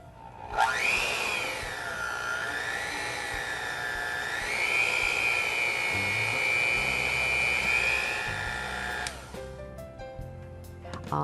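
An electric handheld mixer with a smooth start and nine speeds whirs steadily and loudly, its motor pitch rising after start-up and stepping up once more, then cutting off near the end with a few clicks.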